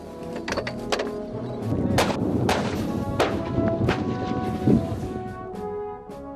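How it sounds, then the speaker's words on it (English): Mortar-tracked carriers live-firing artillery during an overseas military exercise, a run of sharp booming blasts and cracks over a continuous rumbling engine-like background, several shots close together, loud and outdoors. "The annual exercise also saw mortar-tracked carriers conducting their first live firing overseas."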